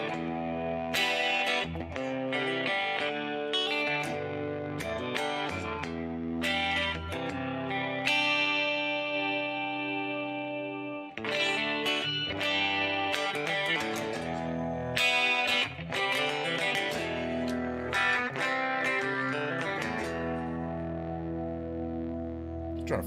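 A brand new Yamaha Revstar electric guitar with two humbucker pickups, played through distortion, chorus and echo effects, ringing out sustained chords and melodic runs with a reverberant tail, loud and continuous with no talking.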